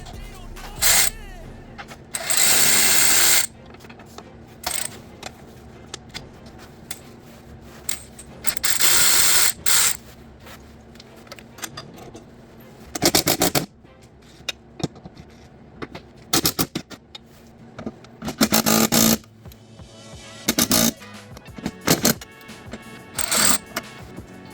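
Power tools, including an impact-style ratchet, remove bolts from a 2000 BMW 528i transmission, heard as repeated loud bursts of a few seconds each with quieter gaps and clicks between.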